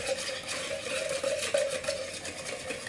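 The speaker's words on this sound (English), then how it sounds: "So we start off with getting the melted butter and mixing it with our brown sugar. And so we whisk this together" A whisk stirs melted butter and brown sugar in a bowl, making a soft, continuous scraping and swishing that stays faint and steady, with no voices.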